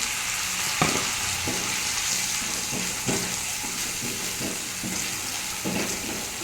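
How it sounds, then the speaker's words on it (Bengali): Tomato puree fries in a hot pan for a Bengali fish-ball curry, a steady close sizzle broken by several sharp spatula scrapes and stirring knocks spaced a second or so apart. "এটা ভাজা হয়ে গেছে, এবার টমেটো পিউরিটা দিয়ে দিচ্ছি।"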